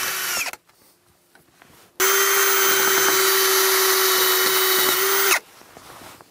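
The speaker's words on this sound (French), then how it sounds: "Et donc là je préperce avec un petit foret, 3 mm. Et ensuite je visse tout simplement avec la vis spéciale." A power drill fitted with a small 3 mm bit pre-drills a facade cladding board, then drives a special screw. A brief burst comes first, then a pause, then one steady, loud, high-pitched whine of about three seconds that stops abruptly.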